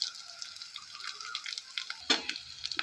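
Potatoes frying with turmeric and salt are stirred in a pan, a light crackling sizzle with intermittent wet scrapes and one brief louder clatter.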